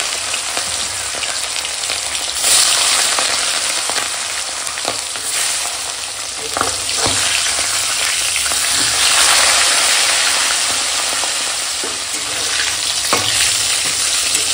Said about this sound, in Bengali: দিয়ে এখন তেল গরম হয়ে গেছে, মাছ ভেজে নেবো।